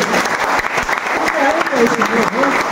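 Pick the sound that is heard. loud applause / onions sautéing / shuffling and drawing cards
loud applause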